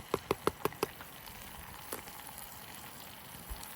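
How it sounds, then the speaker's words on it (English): Vegetables sautéing in butter on a lightweight camp stove, a soft steady sizzle underneath a quick series of five clacking utensil taps at the start and a couple of later knocks. "I'm going to give these veggies just a real quick saute, fully incorporate that butter."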